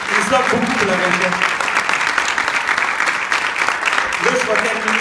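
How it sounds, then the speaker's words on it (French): A crowd at a Relay for Life charity event applauds steadily and loudly, with a voice over a microphone briefly heard at the start and again near the end. "j'aimerais ça qu'on lui donne une bonne main d'applaudissement"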